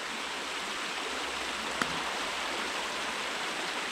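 Water flows through a tiny creek outdoors, a steady, close, broadband rush and gurgle that continues unbroken throughout, with one faint tap partway through.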